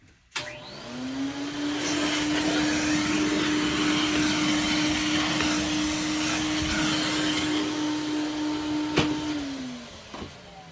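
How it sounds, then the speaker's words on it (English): A Dyson Cinetic vacuum cleaner with a faulty power head runs steadily up close, a loud continuous motor whine with a sustained tone, starting and stopping cleanly, with no talk. "Let me vacuum this off."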